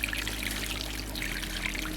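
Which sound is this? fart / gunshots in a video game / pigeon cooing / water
water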